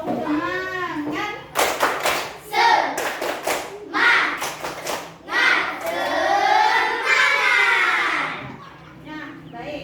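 Schoolchildren in a classroom chant a rhythmic clapping cheer (tepuk semangat), bursts of sharp hand claps in patterned groups interleaved with their loud voices.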